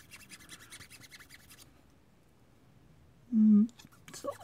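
A Gunprimer Raser Plus file scrapes excess plastic from a model kit part with short, close, soft rasping strokes in a quiet room, then a brief louder rub near the end.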